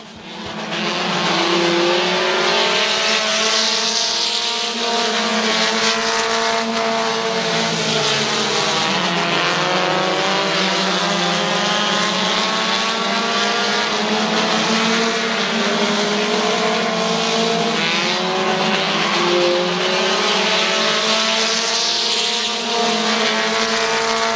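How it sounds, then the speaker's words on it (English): Race cars roar around the oval at Midvale Speedway, a loud, continuous engine drone with rising and falling pitch as the field passes, close and steady throughout. "Off turn number 4, Nolan Caldwell will win in Dan Bucky's 69"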